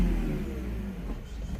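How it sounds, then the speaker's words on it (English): A BMW 323i with a faulty airflow meter is pushed to full throttle; the engine note rises, then falters and sags as it dies, close and fairly loud with no talking. "full throttle and the car dies"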